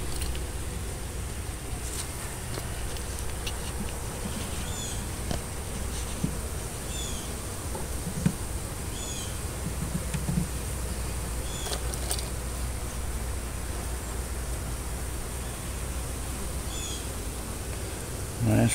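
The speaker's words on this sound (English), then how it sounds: "Beautiful bunch of bees." Low, continuous buzzing of a mass of honeybees on a hive frame while rehoming a captured colony, a steady hum outdoors with occasional closer passes and small knocks.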